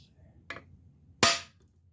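Two sharp metallic whacks from a hand hammer striking a cam bearing removal tool, a lighter tap followed by a louder, ringing blow, close up in a quiet workshop.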